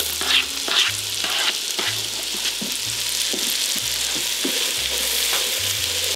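White button mushrooms and chopped white onion sauteing in a pan for keto beef stroganoff, a loud continuous sizzle close up with repeated stirring scrapes and clicks, no voices.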